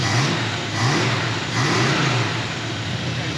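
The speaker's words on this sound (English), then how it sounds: "I'm bringing an American classic truck to the channel as the kayak" An American classic truck engine revs repeatedly, with several rising and falling surges of loud, close throttle over a steady rumble.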